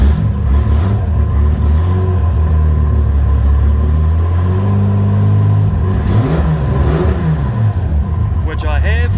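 Toyota Supra engine starting and idling close by, a loud steady rumble with some rising revs, and people talking briefly over it near the end.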